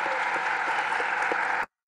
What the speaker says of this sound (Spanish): Fíjate cómo aplauden todo.